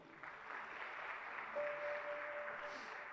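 A church congregation claps together in a continuous, even round of applause during a worship service. It sounds faint and somewhat distant, with a brief tonal note partway through.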